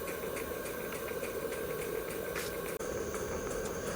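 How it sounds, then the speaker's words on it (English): Stuart beam engine running on steam, a steady mechanical chuffing with regular soft beats and a continuous hiss, heard alone and fairly close. "This engine really does run on practically no steam at all."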